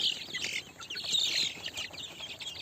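Desi chicks on sawdust bedding give a steady stream of high, overlapping peeps and chirps, fairly close and continuous throughout.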